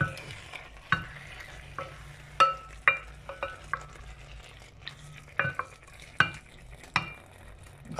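Kebab meat with spices and cinnamon frying in a pan, soft sizzling under repeated scraping and clinking strokes of a utensil stirring it, irregular and close.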